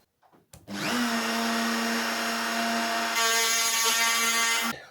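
A power tool runs steadily for about four seconds making a first trial cut on a model boat rudder, a loud continuous whine with a slight shift in pitch partway through before it stops.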